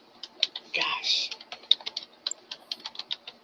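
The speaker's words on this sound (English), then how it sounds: "Okay, I'm still typing." Rapid keystrokes on a computer keyboard clatter in an uneven rhythm of sharp close clicks, pausing briefly while a voice speaks over them before the tapping resumes.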